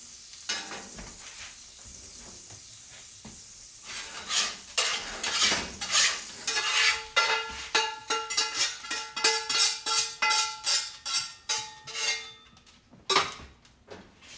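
Eggs are scraped out of a cast iron pan with a utensil, starting with a soft steady hiss and then turning into a run of sharp, rhythmic scrapes and clinks that repeat closely and loudly for several seconds.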